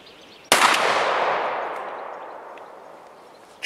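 A hunting shotgun cartridge fires through a chronograph, one loud close blast after a quiet start, its long ringing echo fading over about three seconds.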